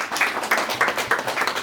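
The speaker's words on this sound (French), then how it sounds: "on va les applaudir ici, sur ma gauche" A congregation at a thanksgiving mass claps in a loud, even rhythm, with about five sharp collective claps spaced roughly a third of a second apart.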